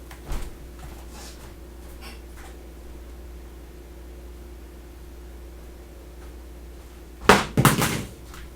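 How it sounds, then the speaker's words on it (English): A phone dropping in a kitchen lands with a sharp, brief clatter and thump near the end, after a quieter knock at the start, against low steady room hum with no talking. "I just dropped my phone."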